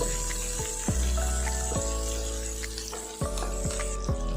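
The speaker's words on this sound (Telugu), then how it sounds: "కట్ చేసుకున్న ఉల్లిపాయ ముక్కలు కూడా వేసుకోవాలి వీటిని కొంచెం ఫ్రై చేసుకోవాలి" Chopped onion pieces fry in a pan for dhaba-style palak paneer, a soft continuous sizzle running under steady tonal background sounds with a few gliding pitch drops.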